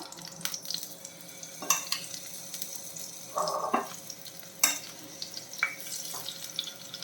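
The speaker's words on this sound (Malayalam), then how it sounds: "നമ്മുടെ എണ്ണ ചൂടായിട്ടുണ്ട് നമുക്ക് ഈ പ്രാണിന് ഇട്ട് കൊടുക്കാം" Prawns hit hot oil in a pan and fry with a crackling sizzle, punctuated by sharp clattering bursts and splashy stirring noises, close and fairly quiet, with no speech.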